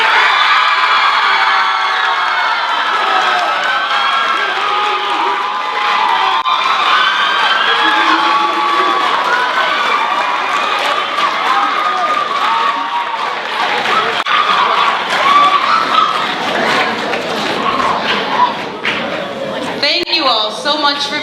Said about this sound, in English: Please give a round of applause to our 13 competitors.